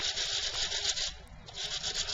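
Sandpaper rubbed over embossed paper in a continuous scratchy sanding, close and steady with slight rhythmic strokes throughout.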